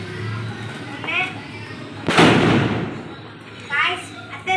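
Lakshmi crackers and bundle firecrackers exploding outdoors, one loud sharp bang with a crackling burst mid-clip amid steady background noise, with children's voices and talk around it.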